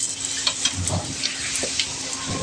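Whole cumin, cinnamon and green cardamom go into hot oil left over from lightly fried prawns. A soft, steady sizzle with faint scattered crackles plays alone and fairly quietly.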